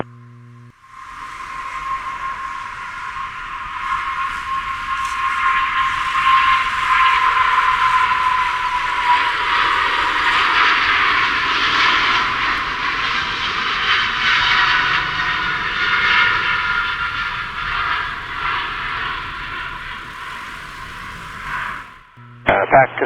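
A Pakistan International Airlines Boeing 777-240(LR) takes off from runway 24 right, a sustained loud jet engine roar with a steady high whine that builds, holds for about twenty seconds, then cuts away.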